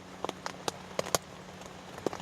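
Raindrops patter on a solo wild camp shelter out in open countryside, sharp scattered taps over a steady soft hiss of rain, close and fairly loud, with no talking.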